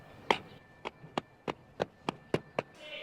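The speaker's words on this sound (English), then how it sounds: "I'm beating the rug." A rug being beaten, seven sharp dull thwacks at an irregular, roughly steady pace, fairly close and clear with no talk over them.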